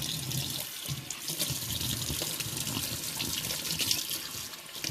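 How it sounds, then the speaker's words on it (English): Tap water runs steadily while the filter cup of a Mr. Coffee ECMP1000 espresso machine is rinsed under it, a continuous splashing hiss at moderate level with no talk. "I would just rinse it under some water."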